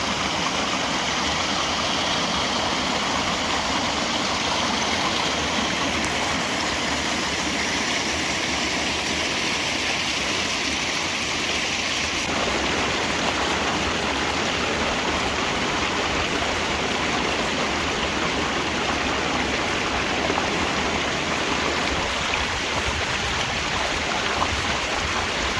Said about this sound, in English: I see a little waterfall up there